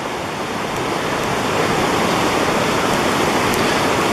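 Clear Creek rushes loudly beneath a bridge crossing, a dense, steady broadband roar of flowing water with no pauses.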